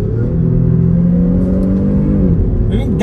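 A Jeep Grand Cherokee engine revs hard in manual sport mode, its tone climbing steadily and then dropping sharply as the gear changes quickly, loud and close throughout the cabin.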